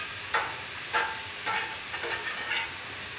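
Metal spatula scraping food residue across a Blackstone flat-top griddle into the catch pan while cooking hibachi, five short, fairly close scrapes at a steady rhythm over a soft sizzling hiss.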